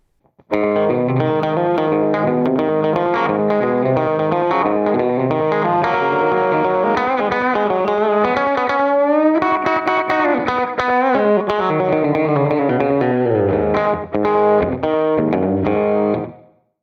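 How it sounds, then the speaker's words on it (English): A distorted electric guitar, a Tease SBH-E, plays a country-style melodic line with chords, heavily effected with a shimmering chorus tone, loud and continuous with no talking. "some of the modern country has some distortion added to the sound"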